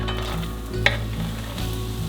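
Onion frying with garlic in a pan, a dense continuous sizzle with a brief scrape of stirring partway through, close and steady, no voices.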